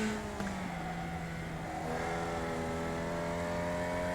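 A race car engine in the iRacing sim, a steady droning tone that climbs in pitch as the car accelerates and gears change, loud and close.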